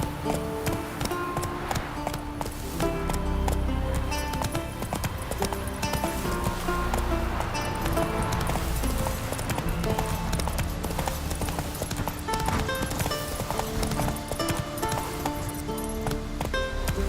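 Roach the horse in The Witcher 3 clip-clops in a steady galloping rhythm throughout, mixed with game music and ambience, with a faint clink of gear.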